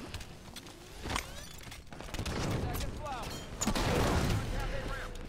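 Halo 5 multiplayer gunfire, steady overlapping shots and bursts running under game ambience and chatter, growing louder toward the end.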